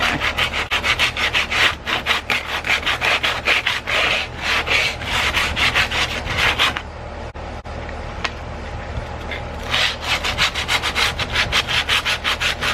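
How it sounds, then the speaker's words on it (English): Wood is sanded by hand in fast, rhythmic back-and-forth strokes, close and loud, with a brief pause before the scraping resumes, while smoothing a spool display table. "I don't want to do too much sanding"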